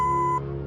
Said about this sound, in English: when you hear the beep, we all say our names